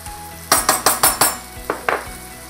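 A spoon strikes a pan in a quick run of five clinks, then two more, as onion, pepper, garlic and tomato paste are stirred over a low sizzle.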